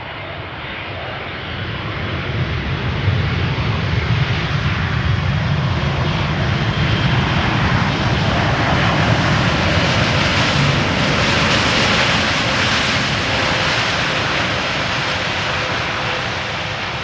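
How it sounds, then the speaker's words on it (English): Airbus A350 airliner engines roar loudly and steadily at Amsterdam Schiphol, a broad sustained jet rumble swelling slightly toward the middle and holding close with no talk. "Angry A350."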